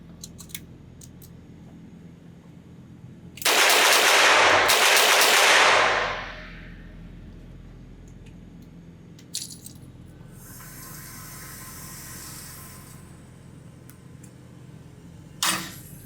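A Colt Diamondback .22 LR revolver at a shooting range: a few sharp, faint reports and clicks, one loud burst of noise lasting a couple of seconds, then a later crack against quiet background hiss.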